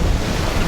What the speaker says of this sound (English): the waves are knocking us down